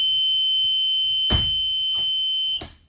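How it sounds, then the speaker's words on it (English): A school bus emergency exit window alarm buzzer sounds as a steady, loud, high tone throughout, with several dull thumps of the window being handled; the buzzer cuts off near the end. "To test, I will pull the handle up and push out. Alarm and buzzer should sound."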